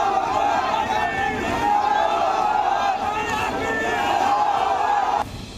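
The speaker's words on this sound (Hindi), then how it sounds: "मुजफ्फरनगर के बुढ़ाना में सैकड़ों की भीड़ रात में सड़क पर उतरी।" A large, angry crowd at night on a street in Budhana, Muzaffarnagar, during a stone-pelting riot: a dense, continuous roar of shouting and yelling voices, loud and sustained, that drops off sharply at the end.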